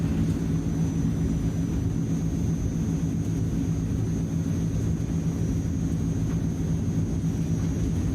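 Transall turboprop engines roar at takeoff power in a flight simulator, giving a loud steady drone with a deep low hum that holds unbroken from start to end.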